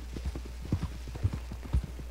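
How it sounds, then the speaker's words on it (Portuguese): Hooves of a blue roan Nokota horse clip-clop at a steady walking rhythm in Red Dead Redemption, about four even beats across a couple of seconds, moderately close with low game ambience underneath. "Vamos aqui com o nosso super cavalo."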